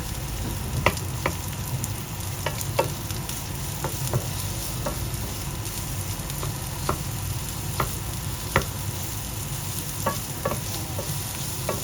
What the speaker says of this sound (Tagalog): Ilalagay na tayo yung onion tsaka garlic.